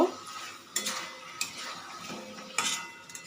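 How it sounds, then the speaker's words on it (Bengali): A spoon stirs and scrapes spices frying in a pan for chicken curry, with a few sharp clinks of metal against the pan between softer scraping and a faint sizzle, close and alone. "মশলাগুলো ভালো করে কষিয়ে নেব"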